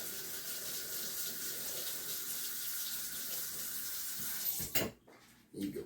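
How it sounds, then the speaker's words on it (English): Tap water runs steadily into a sink as raw chicken is rinsed, a continuous close hiss that stops abruptly, followed by a brief splash and a short burst of running water. "Rinse this off."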